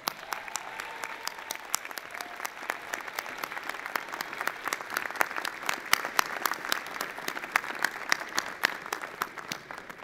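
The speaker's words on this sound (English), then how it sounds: "give them a huge round of applause" Steady crowd applause at a university science faculty convocation, many hands clapping continuously with sharp individual claps standing out, moderately loud throughout.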